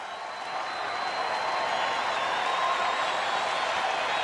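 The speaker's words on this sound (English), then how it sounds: "Crowd now trying to salute the Dodgers to the end" Baseball crowd at Dodger Stadium applauding the Dodgers late in a game against the Giants, a steady distant wash of clapping and cheering that holds evenly for a few seconds.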